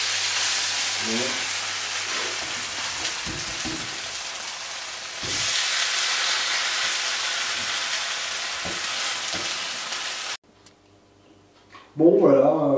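Pommes darphin potato cakes sizzle and fry loudly in a pan, a continuous hiss with a few scrapes and taps, briefly dropping to near silence before a voice speaks at the end.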